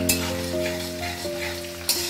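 Small torn pieces of bay leaf fry in hot oil in a home kitchen, a steady close sizzle with a couple of sharp crackles from stirring.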